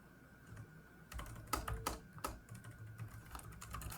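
Typing on a computer keyboard: a short burst of quiet, close key clicks, with a few louder taps, over a faint room hum.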